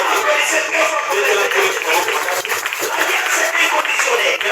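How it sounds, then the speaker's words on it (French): A church congregation applauding loudly, a dense, continuous wash of many hands clapping close and strong, with a voice over it. "Applaudissez très fort pour"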